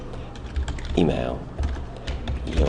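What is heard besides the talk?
typing on a computer keyboard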